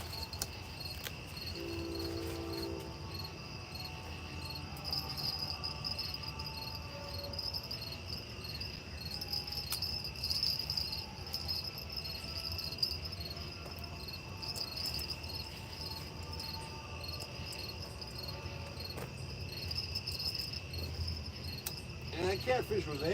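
Crickets and other insects chirp steadily and continuously beside a river at night, forming a dense, even drone that runs the whole way through at moderate, ambient distance.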